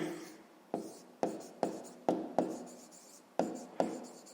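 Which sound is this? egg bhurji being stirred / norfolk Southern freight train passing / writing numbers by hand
writing numbers by hand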